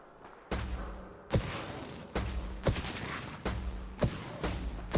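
A rapid string of loud gunshots in the video game Sim Settlements 2, about eight sharp blasts at uneven intervals, each followed by a short ringing tail. No one speaks.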